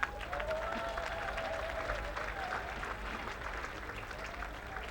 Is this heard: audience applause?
yes